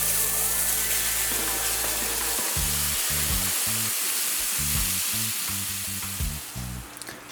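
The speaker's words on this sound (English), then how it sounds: "what we're going to do now is add in our alligator meat" Alligator meat hits a hot pan with seeds that have toasted dark brown, setting off a loud, steady sizzle and frying hiss, with rhythmic clattering stirs scraping the pan throughout.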